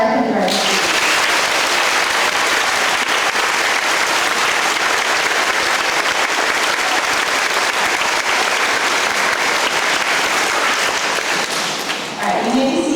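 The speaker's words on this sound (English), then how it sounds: "Let's clap our kindergarten students." An audience at a school program claps steadily for kindergarten students, a dense, loud wash of applause from a crowd that holds for about twelve seconds before tapering off.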